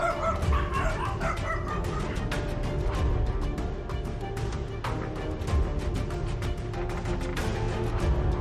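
A dog barks and yips rapidly and continuously at night in a residential yard during a leopard attack, loud, close and frantic against a constant background noise.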